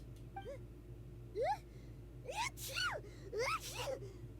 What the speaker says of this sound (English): Oh, bless you, Paimon